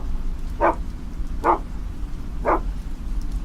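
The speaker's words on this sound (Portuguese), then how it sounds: "o nosso cachorro começou a latir para a janela" A pet dog barks at a window beside a computer, three separate barks spaced about a second apart and heard fairly close in a quiet room.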